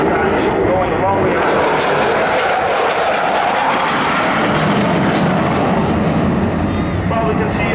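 A propeller airplane performs aerobatic square turns at a seaside air show in Bournemouth, its engine droning loud and steady overhead with a broad roar that swells and shifts, while a commentator talks continuously over it.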